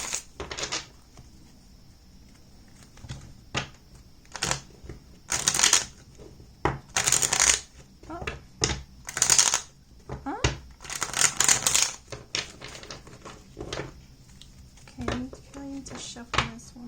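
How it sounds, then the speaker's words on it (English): A tarot deck is shuffled by hand in repeated sharp riffling bursts of crisp card flutter separated by short pauses and soft handling, close to the microphone. "To shuffle this one more time."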